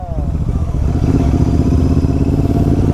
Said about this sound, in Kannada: ಐಡಲಲ್ಲಿ ನಿಮ್ಮ ಲೌಡ್ ಬರ್ತಿದೆ.